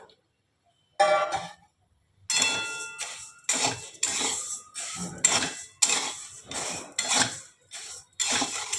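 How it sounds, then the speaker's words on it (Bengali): Mung dal dry-roasting in a pan, stirred in a quick run of about eight bursts of rattling, scraping grains against metal, close and moderately loud, with short gaps between strokes. "এটা একটু লাল করে ভাজতে হবে মুগ ডালটা"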